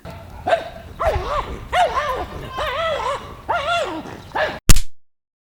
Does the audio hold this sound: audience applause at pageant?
no